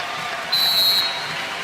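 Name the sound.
crowd applauding at Nebraska volleyball match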